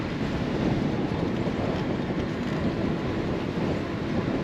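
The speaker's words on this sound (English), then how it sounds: "That wind's really slowed me down." Steady roaring wind buffets the microphone while riding an original Lectric XP electric trike into 10 to 15 mph headwinds, a continuous broadband rush with no pauses.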